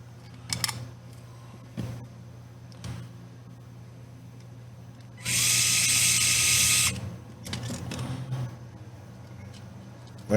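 Small screws are driven into an INJORA IR60 pickup body, with scattered clicks and tool handling, then a steady whirring burst of about two seconds that sounds like a small electric screwdriver.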